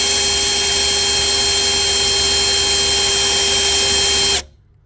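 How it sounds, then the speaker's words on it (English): A loud, steady whine of a power drill running continuously at close range while working on an EB XR8 engine, then cutting off abruptly near the end. "if I run the drill,"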